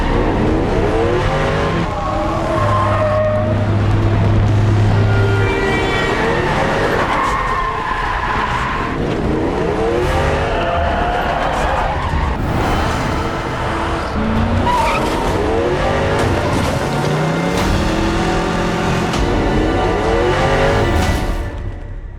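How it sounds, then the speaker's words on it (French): Car losing control in a movie scene, loud repeated tire squeals and skids over a revving engine, several screeching bursts in quick succession with no talk. "Mais j'ai perdu le contrôle de la voiture."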